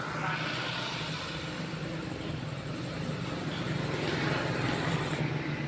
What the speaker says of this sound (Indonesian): Ini motor sebentar hidup, ini udah panas sekali ya mesinnya.